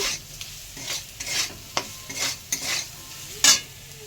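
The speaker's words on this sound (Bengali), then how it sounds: "আর তার সঙ্গে দিয়ে দেবো একটু চিনি দিয়ে আবার এই সমস্ত উপকরণগুলো একটুখানি ভেজে নেব।" Spices with turmeric and a little sugar fry in a pan, a low sizzle broken by repeated scraping stirs, each a brief near scratch against the metal, with no voices.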